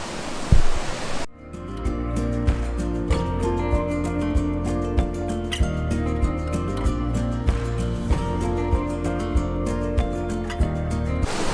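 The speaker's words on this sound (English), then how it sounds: "So that's the fourth and the final of the 4 waterfalls on the 4 waterfalls walk in South Wales." A waterfall on a walk in the Brecon Beacons, South Wales, rushes in a continuous broad roar, loud and steady throughout after a brief handling bump at the start.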